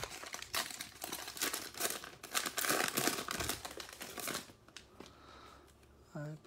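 A Donruss basketball card fat pack is torn open and its 30 cards are shuffled and flicked through, a steady close run of crinkling wrapper and rustling cards that fades into quieter handling near the end.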